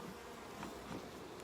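Honeybees buzz steadily and close by during a beehive inspection, a dense humming drone with slight swells in pitch and loudness.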